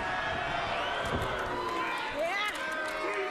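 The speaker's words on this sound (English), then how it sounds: "listen to the crowd" A wrestling arena crowd roars in a sustained, distant swell of cheering during a ladder match, with voices talking over it throughout.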